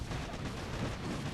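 Cannon fire in a video game, a dense muffled rumble of booming shots blending together, faint and continuous for a moment with no talk.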